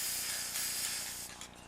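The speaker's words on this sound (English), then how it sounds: "I'm going to spray some black" A spray paint can releasing black paint for spray-art, a steady close hiss that thins and fades near the end, no voices.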